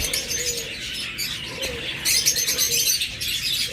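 A crowd of pet lovebirds and cockatiels kept for sale chirps and tweets continuously close by, with a dense, busy chatter of overlapping high calls.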